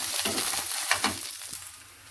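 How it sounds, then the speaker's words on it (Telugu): Steady sizzling of peanuts frying in hot oil, with occasional scraping and stirring sounds, close up and continuous. "పల్లీలు వేసి మంచిగా పచ్చివాసన పోయే వరకు ఫ్రై చేద్దాము"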